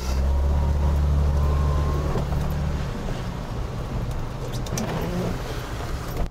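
A BMW E30 drives on a mountain road, its engine droning steadily and loudest at the start, then easing into a lower road rumble with light rattles near the end.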